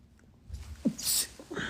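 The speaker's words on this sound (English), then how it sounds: "I usually sneeze twice." A single sharp sneeze bursts out after a quick intake of breath, close and fairly loud against a quiet room.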